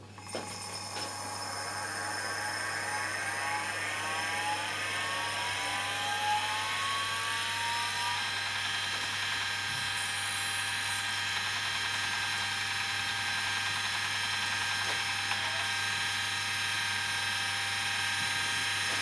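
A Seagate Cheetah 450GB hard drive spins up with a rising whine that climbs steadily over several seconds, then settles into a constant high-pitched hum and a steady low drone, close and continuous with no talking.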